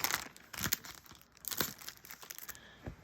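A Pokémon VMAX Climax card pack is handled with crisp crinkling foil, several irregular crackles that come close and loud at intervals, and nothing else is heard.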